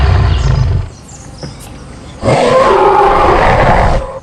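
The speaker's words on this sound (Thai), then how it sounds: "กดคำรามหน่อยครับ" A Jurassic World Carcharodontosaurus toy dinosaur figure lets out two electronic roars: a short low growl, a pause, then a longer, louder, rasping roar, close and clear.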